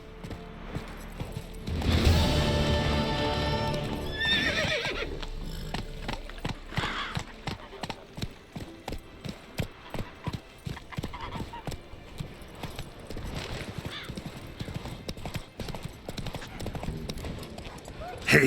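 Hooves clip-clop in a fast galloping rhythm as a horse is ridden in The Witcher 3 video game, beginning with a loud whinny and continuing as steady close hoofbeats under game music and ambience.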